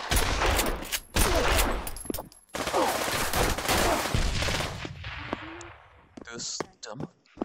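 In the Pavlov VR shooter, a shotgun fires loud, sharp blasts in rapid bursts alongside other gunfire, followed by a few scattered shots, with a voice talking in places.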